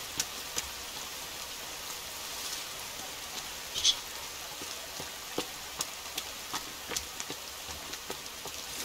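Steady light rain patter in the video game The Forest, with scattered sharper drips, continuous and soft throughout, no voices.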